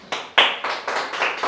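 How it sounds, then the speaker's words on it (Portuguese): A church congregation claps in a few short, uneven bursts, close and loud, with no speech over it. "Vamos dar uma salva de palmas"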